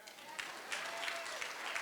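Applause from a crowd at a county GOP dinner, a short, moderately faint patter of clapping that carries on evenly, with a voice speaking over it.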